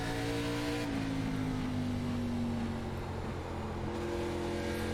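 ARCA Series race car engine in the iRacing sim at Richmond Raceway, a steady sustained drone with a slowly falling pitch, no voices, at a moderate level throughout.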